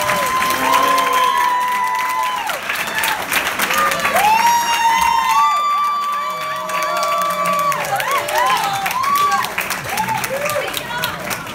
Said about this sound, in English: So please let's give Chris applause